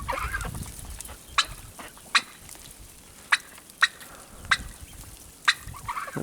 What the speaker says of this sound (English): Turkeys roosting.